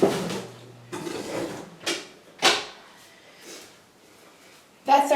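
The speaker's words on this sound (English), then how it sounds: "Let me shut the door." An indoor door shut nearby, heard as a few separate thuds and knocks with quiet gaps between, ending in a brief voice.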